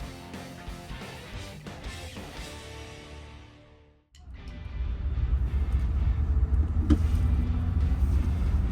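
Pickup truck driving along a road carrying supplies to an inventors fair, a steady low engine and road rumble that drops out briefly before resuming louder and continuous.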